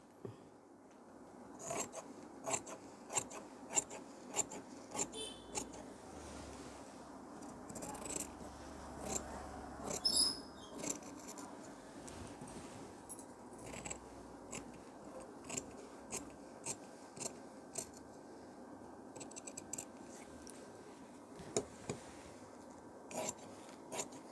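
Tailor's scissors snip through fabric along a shoulder line in a run of short, crisp, close cuts with brief pauses between them, quiet and with no voices.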